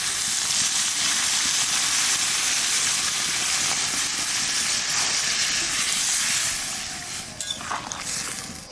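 Water poured over prawns cooked down with jackfruit seeds in spice masala, raising a loud, continuous steamy hiss and sizzle that eases slightly toward the end, close up and with no voices.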